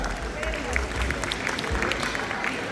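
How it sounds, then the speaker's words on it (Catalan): A town festival audience in Gurb claps for a woman joining by video link, a moderate, somewhat scattered round of applause mixed with crowd murmur and nearby talking voices. "un fort aplaudiment per la Filomena, que ja s'ha connectat"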